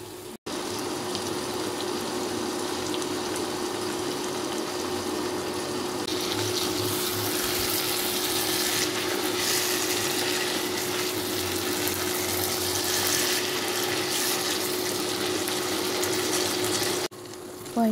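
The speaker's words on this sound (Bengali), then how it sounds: "এখন আমি ভালোভাবে নেড়ে চেড়ে মাংসগুলো মশলার সাথে মিশিয়ে কিছুক্ষণ" Chicken pieces frying with spices in a pot for biryani, a steady, loud sizzle running almost the whole time, with faint scraping and stirring, then cutting off near the end.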